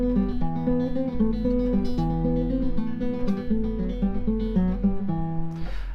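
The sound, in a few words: bass guitar playing main theme of Albéniz's Asturias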